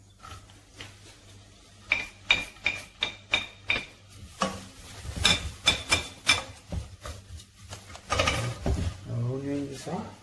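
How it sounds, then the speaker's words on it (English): A spoon stirs onion and garlic sauteing in olive oil in a pot for pizza sauce, with a steady run of close, rhythmic metallic clinks and scrapes over a faint sizzle, and a voice briefly near the end. "We are sauteing our onion and garlic now."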